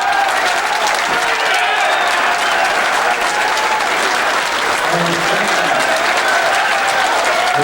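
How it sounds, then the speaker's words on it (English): Sustained audience applause fills a pool hall at the 1995 US Open 9-Ball Championship, a steady, dense clapping from a large crowd that holds loud and even throughout without a break. "The applause you hear is for Earl Strickland, who defeated Rudolfo Luot 11 games to 9"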